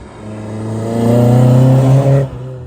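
A 1987 Toyota AE86 with a 4AGE engine drives with its engine loud inside the cabin, rising in pitch as it accelerates, then easing off after about two seconds, with no talking.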